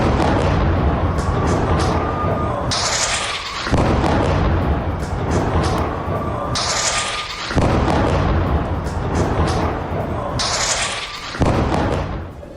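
Three loud, booming bomb blasts at a refugee camp repeat at even intervals, each a heavy broadband burst with a rising whoosh, dense and close with no voices.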